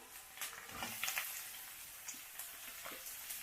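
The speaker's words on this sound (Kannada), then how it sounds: "ಈರುಳ್ಳಿ ಬೇಯೋವರೆಗೂ ಬೇಯಿಸ್ಕೋಬೇಕು" Onion frying in a pan with curry leaves and green chillies for garlic pepper rice gives a soft, steady sizzle with a few light stirring scrapes, faint and close.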